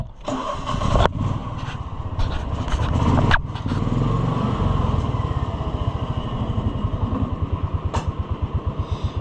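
A side-by-side utility vehicle engine cranks and catches, revving unevenly at first and then settling into a steady, pulsing idle, loud and close with no talking.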